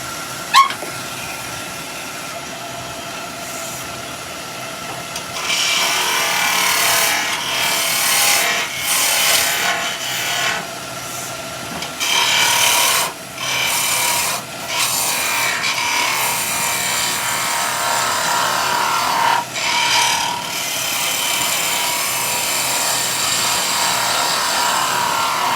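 A skew chisel shaves wood turning on a lathe, giving a continuous scraping, hissing rasp that rises and falls in uneven strokes with brief pauses, close and fairly loud, with no talk.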